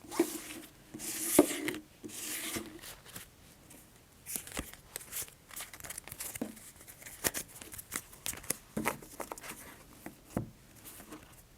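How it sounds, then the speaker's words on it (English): Tarot cards are lifted one by one off several piles on a table during a calm palm-reading session, giving soft, close papery slides, rubs and taps spaced irregularly, with a few brighter swishes near the start and no talking. "I'm going to pick the top card from each of these other piles that you've created"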